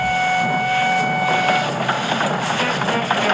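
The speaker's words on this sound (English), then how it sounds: "he puffed away with a heavy train" A steam engine pulls a heavy train with a steady rolling rumble and clatter of carriages, faint tonal whines running through the first half.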